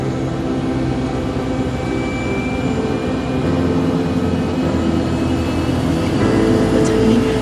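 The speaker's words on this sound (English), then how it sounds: "We're just picking up speed so the plane can get off the ground." Airplane jet engines roar steadily as the plane speeds down the runway for takeoff, a loud continuous rumble that builds slightly toward the end.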